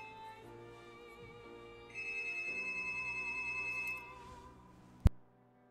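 A phone or bell rings at home as a melodic electronic ringtone: sustained tones that swell louder midway, then stop with a sharp click, heard alone over a quiet background.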